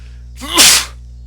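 A single loud sneeze with a short breathy intake, then a sharp burst, close to the microphone over a steady electrical hum.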